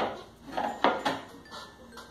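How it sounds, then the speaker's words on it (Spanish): Flan being unmolded from its pan onto a plate, heard as a few close clinks and knocks of metal and plate in a brief cluster with no talking. "Tomamos el plato, ponemos así y desmoldamos."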